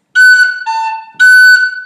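A tin whistle plays a short phrase of three clear, tongued notes on its own, bright and close, with no talking.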